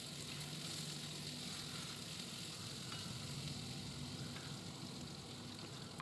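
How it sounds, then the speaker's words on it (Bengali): Potatoes frying in oil in a pan for a boro and pipul shak dish, giving a steady, continuous close sizzle with faint crackle throughout. "এবার যে আলুটা ছিল, আলুটা ভেজে নেব। একটু লাল লাল করেই ভাজবো।"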